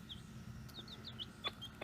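Hens cluck softly in short, chirpy bursts, with a rooster close by in a farmyard around a mother hen and her chicks. The calls are faint and scattered over a low background hum.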